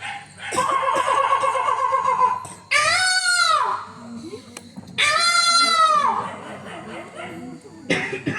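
A human voice imitates a peacock's call, giving several loud, drawn-out wailing cries with rising and falling pitch, separated by short pauses.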